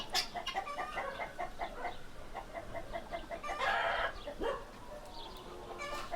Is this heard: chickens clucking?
yes